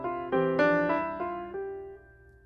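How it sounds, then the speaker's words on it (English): A short Bach three-part canon passage for first violins, second violins and violas, sustained tonal notes entering one after another in quick staggered succession and layering before fading together. "contains a little hidden three-part canon involving the first violins, second violins, and violas"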